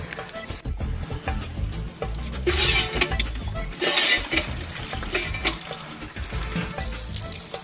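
Cold water being readied at a sink splashes and sloshes in uneven bursts, with clinks and swishes from a container and running-water hiss, fairly close and loud with no speech.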